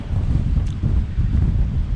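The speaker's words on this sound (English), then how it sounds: "It's still blowing. 30 knots, gusting 30." Strong wind of about 30 knots roars steadily across the microphone on a sailboat, a dense low rumble with constant buffeting and no voices.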